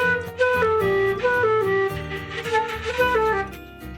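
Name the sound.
flute playing Hot Cross Buns quickly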